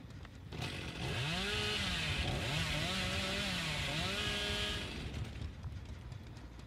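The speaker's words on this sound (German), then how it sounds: "Kettensäge hier draußen zu benutzen, ist die reinste Hölle." A chainsaw revs loudly and steadily in the Dead by Daylight horror game, its engine pitch rising and dipping in sweeping waves for several seconds before cutting back to a lower idle.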